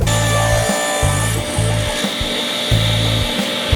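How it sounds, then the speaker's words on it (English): A hand saw cuts quarter-inch strips from a small piece of cedar, up close and loud. Rhythmic back-and-forth strokes come in short bursts separated by brief pauses, with no talking. "Got this little piece of cedar, and I'm going to cut about some 1/4-inch strips off of it"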